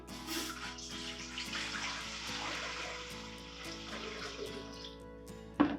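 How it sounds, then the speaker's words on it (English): About 2 quarts of water pour into a 4-quart cooking pot for gumbo, a continuous near rushing splash with a faint regular ticking beneath, ending with a sharp clank. "I'm going to add about 2 quarts of water into it"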